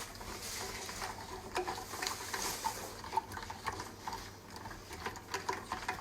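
Spoon stirring melting sugar in a pot over low heat, a soft continuous scraping and faint sizzling texture, close but fairly quiet.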